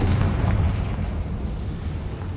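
A Confringo blasting spell explodes in Hogwarts Legacy, a loud, sustained low rumbling blast that rolls on without a clear sharp onset, with no talking.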